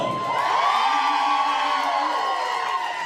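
A burlesque show audience in a St. Louis venue cheers, whoops and shouts together in a loud, sustained burst of crowd noise lasting a few seconds.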